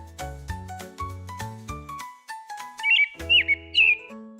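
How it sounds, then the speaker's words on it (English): A starling gives a few quick, bright chirping calls in short bursts over a gentle melodic music bed, clear and near, with no voices. "Starling."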